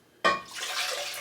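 Broth pouring into a soup pot, a sudden close splash that settles into a steady, bright liquid stream.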